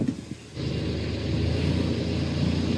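A boat engine with an oil-spraying fault revs up to 2,500 RPM, its low, close rumble stepping up sharply after a brief lull and then holding a steady, throbbing drone.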